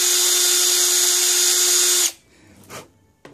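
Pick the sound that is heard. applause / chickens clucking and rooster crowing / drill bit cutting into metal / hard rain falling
drill bit cutting into metal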